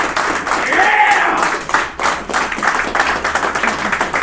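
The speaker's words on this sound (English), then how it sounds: "Give those guys a round of applause." Clapping from the audience at the MonCon 2012 convention opening ceremony, scattered claps running under and after a speaking voice, uneven and moderately loud.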